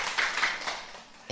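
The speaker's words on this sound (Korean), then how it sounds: "박수 한번 치고 가야죠" Audience clapping at a Korean poetry talk event honoring a prize-winning poet, a brief, moderately loud burst of many hands that fades out within about a second.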